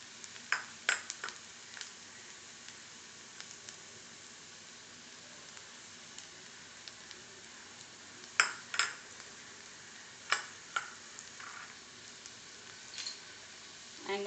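Pav bhaji vegetables, with capsicum among them, roast in a pan over a very high flame, giving a soft steady sizzle broken by sharp clinks and scrapes of a spatula against the metal.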